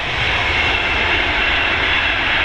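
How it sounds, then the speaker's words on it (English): A passing Avanti West Coast Pendolino electric train on the West Coast Main Line at Tamworth, heard from an upper level as a steady, loud broadband roar throughout with no talk. "Avanti West Coast Pendolino."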